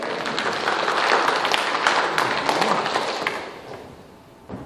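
A church congregation claps together after a sermon prompt, a loud, dense burst of many hands that holds steady, then tapers off and fades near the end, with a few scattered claps and thumps left.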